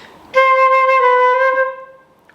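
A flute plays a smooth, connected run of notes in one unbroken breath, clear and close, then fades into silence.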